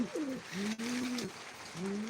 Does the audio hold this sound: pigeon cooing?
yes